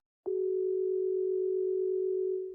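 A single steady telephone ringback tone sounds while calling someone, a clear continuous hum starting abruptly and holding unbroken for over two seconds, alone with no talk.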